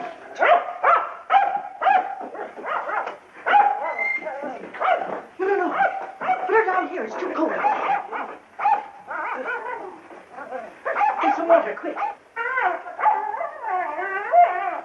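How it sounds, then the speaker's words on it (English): A dog barks and howls in a 1941 film scene, its repeated yelps and drawn-out wails rising and falling close by while people speak urgently over it. "Let him howl if it makes him feel good."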